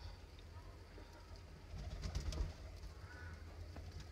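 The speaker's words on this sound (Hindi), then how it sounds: "ये कबूतर देखें" Pigeons coo softly in low, throaty murmurs close by, swelling briefly in the middle amid faint background hiss and light rustling.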